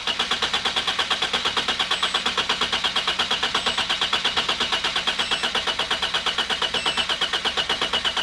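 A car engine cranks over steadily with a fast, even mechanical pulse, loud and close throughout, with no voices.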